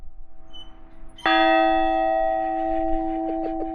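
A large Liberty Bell replica is struck once, loud and close, its deep resonant tone ringing on and slowly fading with a shimmering hum.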